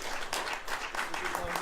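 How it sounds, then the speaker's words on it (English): A comic convention audience at Renton City Comic Con claps steadily, a dense, even wash of applause heard from within the crowd with no clear breaks. "let's just start clapping now, and then just keep on clapping until she comes up here"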